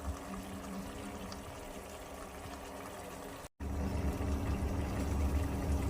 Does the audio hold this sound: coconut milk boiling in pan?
yes